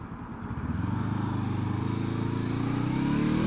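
A small 45-mile-an-hour motorcycle's engine runs while being ridden, giving a steady, close, humming drone that builds slightly and holds without a break.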